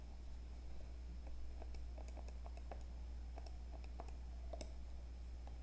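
A calculator's buttons are tapped repeatedly in an irregular run of small, close, crisp clicks over a steady low hum, with no talking.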